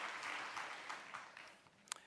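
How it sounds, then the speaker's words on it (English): Faint audience applause for MSN graduates at a nursing graduation ceremony, soft distant clapping that tapers off over two seconds, ending in a single louder clap. "can we have one more round of applause for our MSN graduates?"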